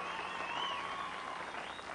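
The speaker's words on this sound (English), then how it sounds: "Give Terry's jacket a round of applause." Studio audience applause on a televised talk show, a steady, dense wash of clapping close and loud throughout, with a faint tonal hum running beneath it.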